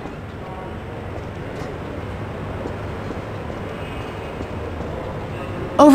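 Steady rumble of a train rolling along rails, from the video game Half-Life 2, heard as a continuous low mechanical roar throughout, with a sudden louder burst right at the end.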